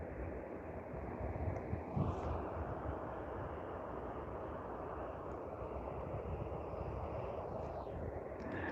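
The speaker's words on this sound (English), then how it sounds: "the Q400 taxiing out is Air Canada Express flight AC8808" An Air Canada Express Q400 turboprop taxis out at Vancouver International Airport, its steady broadband engine roar and propeller rumble filling the air, heard from a distance with a faint higher whine drifting through.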